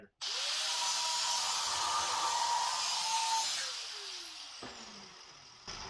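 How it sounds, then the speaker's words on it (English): A right angle grinder cuts through vintage rivets clamped to a table, a loud continuous high-pitched whine with a gritty edge that holds for several seconds, then spins down with a falling tone and stops. "I'm just gonna sit here and cut them all off with my right angle grinder."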